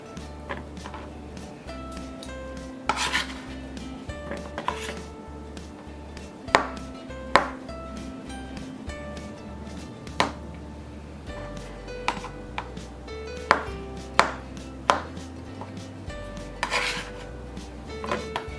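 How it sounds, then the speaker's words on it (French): A knife cuts avocados into small squares on a board, giving sparse, irregular sharp taps and knocks with occasional clinks of utensils, close and fairly quiet, with no talk. "Je les coupe en 3. Et puis après, je les coupe en 2, en petits carrés."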